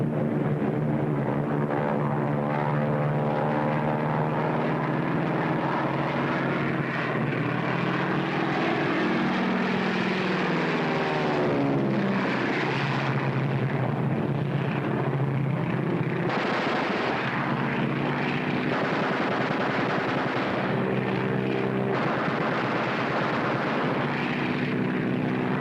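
A 1940s propeller warplane drones steadily in flight, loud and continuous, with the engine pitch slowly rising and falling as it passes, and no voices.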